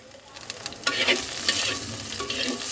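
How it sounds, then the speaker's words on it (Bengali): Chopped garlic, green chilli and onion fry in a pan with a steady sizzle and some stirring clatter, growing louder partway through, with no one speaking. "এবার আমি রসুন কুচিটা সুন্দর করে ভেজে নেব"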